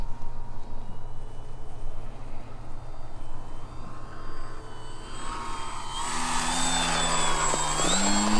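A 1400mm balsa stick RC airplane, a Dancing Wings model from Bitgo Hobby, drones at low power while flying slowly with full flaps. A faint background hum swells into a louder, rising motor whine near the end.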